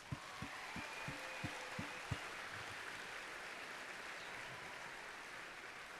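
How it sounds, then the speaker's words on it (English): An audience at a FIRST robotics state championship in Michigan applauds in a large hall, a faint steady wash of clapping with a few low thumps near the start. "So let's give yourself a round of applause."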